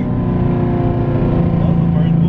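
Mustang Cobra engine roaring steadily during a hard acceleration pull on concrete, loud and sustained with a slowly rising tone, a voice speaking over it.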